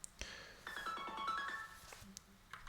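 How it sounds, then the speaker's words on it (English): A phone ringtone sounds for an incoming call: a short melodic electronic tune of rising and falling tones, faint and alone in a quiet room, with a few soft clicks around it. "I'm getting a phone call"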